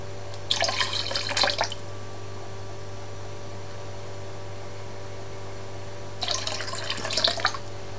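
Water poured into distilled honey rum to dilute it, two separate short splashing pours with a quiet gap between, over a low steady hum.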